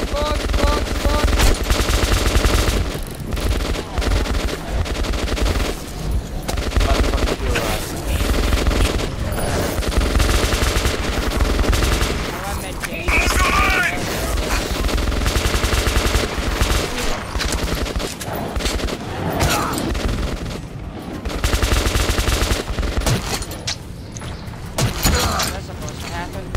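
Sustained heavy gunfire in the video game Metro 2033 Redux, with rapid automatic bursts and shots nearly continuous and loud for the whole stretch, barely pausing.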